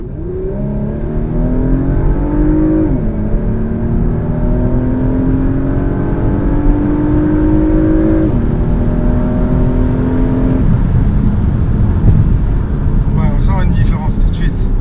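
A Porsche Macan with petrol engine accelerating hard in Sport Response mode, the engine note rising steadily through the gears with shift drops, loud and close from inside the cabin.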